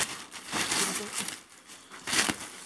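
Plastic packaging bags from a parcel, one nested inside another, crinkle and rustle up close in a few uneven bursts of handling, fairly soft.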